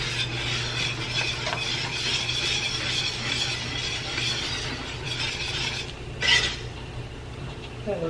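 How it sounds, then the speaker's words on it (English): A spoon stirs and mixes Alfredo sauce seasoned with nutmeg in a pan, a steady scraping, swishing texture with a soft sizzle, close up, with a brief louder scrape near the end. "Mix this all together."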